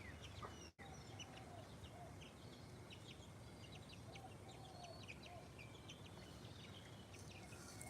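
Chickens cluck in short, scattered bursts over a steady outdoor hiss, fairly distant and moderate in level, with no talking.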